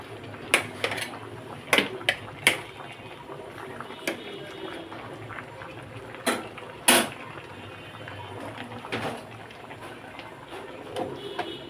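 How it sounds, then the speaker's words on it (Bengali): Meat cooking in a pot being stirred, scattered metallic scrapes and clanks of a spoon against the pot at irregular intervals, close and fairly clear over a low background hum, no talking. "দেখি মাংসটা নাড়াচাড়া দেই।"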